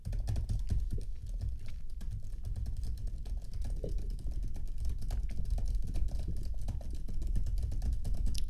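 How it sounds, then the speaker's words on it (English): Steady, close-up clicking of fingers typing on a computer keyboard in a quiet ASMR role-play, keys tapped in quick uneven runs that carry on without pause and without any talking. "let me just type that in."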